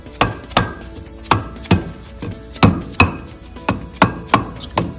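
A pump seal part is tapped into place over an O-ring on an Ampco ZP1 series pump, about a dozen sharp, evenly spaced metallic taps ringing up close.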